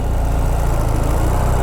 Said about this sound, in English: I noticed that they've decreased the idle speed of the bike again.